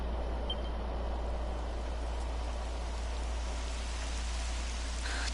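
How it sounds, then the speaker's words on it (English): Steady rainfall in Dragon Quest XI, a constant broadband hiss of rain on surfaces with a low rumbling undertone, even and unbroken throughout with no talking. "It would have to go and start raining, wouldn't it?"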